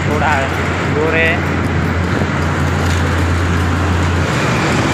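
Heavy traffic on a busy road beside a national highway rumbles loudly and steadily around a rider on a KTM Duke 250, with a low engine hum, wind buffeting and someone talking over it.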